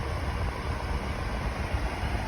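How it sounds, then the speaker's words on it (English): A Ryobi 4-inch clip fan runs on high, blowing directly toward the recorder, a steady broadband whoosh of rushing air with a low rumble, close and constant throughout. "So this is the sound of the fan on high, blowing directly towards the camera."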